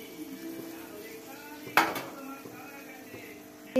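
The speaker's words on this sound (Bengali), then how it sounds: "একেবারে হালকা স্টিমে আমি এটা ঢাকা দিয়ে রাখবো" A lid lands on a pan of rohu fish steaming in spice paste with one quick metallic clank, then another knock at the end over a quiet, steady background hum.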